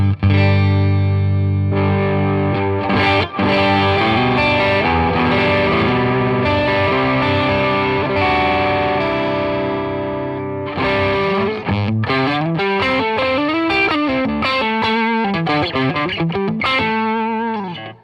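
An electric guitar through a Boss OD-1 overdrive pedal with gritty tone plays sustained chords, then shifts into quicker bending single-note lines, loud and close with no voices.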